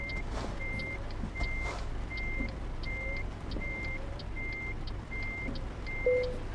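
A truck in Euro Truck Simulator 2 sounds its reversing alarm, a steady run of regularly spaced beeps that stay faint over a low engine rumble.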